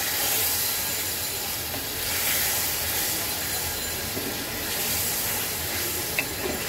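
Masala with shing fish hisses loudly in a pan as a little water is added, giving a dense, continuous sizzle that stays up close and even for the whole stretch, with no talking.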